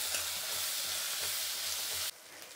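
Turmeric and spices sizzle in hot oil in a frying pan, a steady crackling hiss with soft rhythmic stirring scrapes beneath it, then cutting sharply to a brighter, louder fizz near the end.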